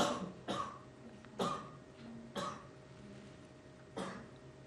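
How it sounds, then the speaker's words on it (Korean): Four or five separate coughs from a Go player during a televised league match, spaced a second or so apart, fairly close and dry, with a quiet background between them. "기침 소리로 들리는데"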